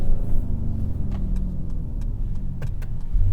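A 2022 Mercedes-AMG GLE 53 engine drones steadily at mid revs from inside the cabin, with faint clicks over the low engine hum.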